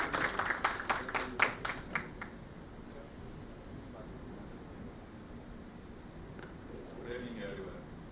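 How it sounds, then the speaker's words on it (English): Audience applause at a product launch event: a burst of clapping from a crowd that fades within about two seconds, leaving quiet room ambience. "Can we have a huge applause for him,"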